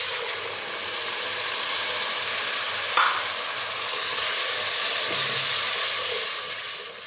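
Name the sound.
tomato paste added to hot oil sizzling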